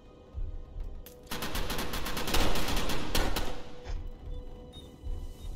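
Rapid video-game gunfire from the horror shooter Parasite rattles out in a dense, loud burst lasting a few seconds, easing off and then flaring again briefly near the end.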